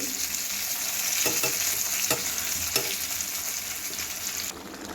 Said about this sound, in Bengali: এই পাশের চুলাতে কাঁকড় ভাজাটা দিয়ে দিলাম